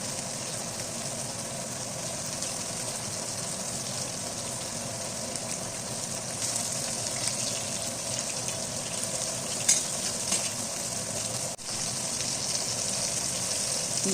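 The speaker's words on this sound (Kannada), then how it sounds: "ಈ ಥರ ಚೆನ್ನಾಗಿ ಇದನ್ನು ಫ್ರೈ ಮಾಡ್ಕೋಬೇಕು." Fish frying in hot oil in a pan, hotel-style crispy fish fry, giving a steady, dense sizzle that runs close and loud the whole time with slight swells, no voices.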